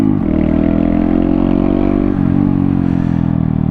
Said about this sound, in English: Don't hit that big pothole and park the Grom in.